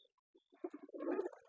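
A single pigeon in a loft gives a short, low, throaty coo that rises briefly and ends abruptly, close by and on its own.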